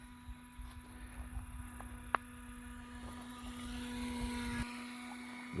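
A small shallow-water boat's motor, able to just get on plane, running as a steady droning hum with a faint whine, moderately distant, with a sharp knock partway through.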